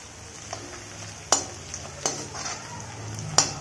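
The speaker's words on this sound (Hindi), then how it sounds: "इन सबको 2 मिनट अच्छे से भूनेंगे।" Asafoetida, cumin and whole dried red chillies fry in oil for Punjabi-style sarson ka saag. A spoon clinks sharply against the pan a few times over a soft, steady sizzle, and no one speaks.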